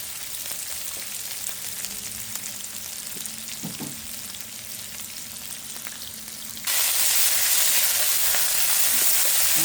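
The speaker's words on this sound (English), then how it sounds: "In goes my onions, and I'm just going to cook this for a few minutes just to soften it up" Onions and green onions frying in a pan outdoors for baigan choka, a steady close sizzle that jumps abruptly louder and brighter about two-thirds through as more goes into the pan; no talking.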